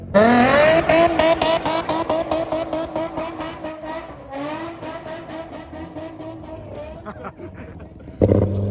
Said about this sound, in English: This is an S4 engine in the Passat, by the way.